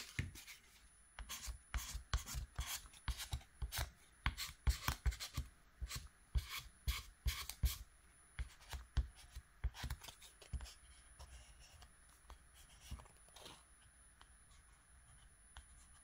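A razor cuts a plastic anti-glare screen protector sheet for a handheld radio, making quiet, rapid scratchy strokes that come thick and fast, then thin out toward the end.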